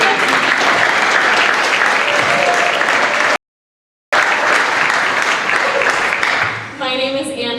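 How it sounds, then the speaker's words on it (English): Loud, sustained applause from the crowd at the opening ceremony of the 2015 Public Interest Environmental Law Conference, broken by a short gap, then dying away as a voice begins speaking. "You can clap."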